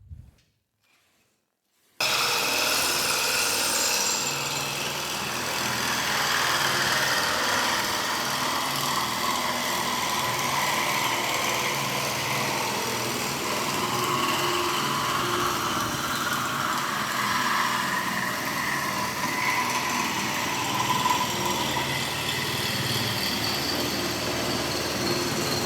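An electric drill spins a dowel-making device, pushing wood through a 12 millimeter hole, giving a steady, loud whirring and rubbing grind that runs continuously for about twenty-three seconds after a short silent start.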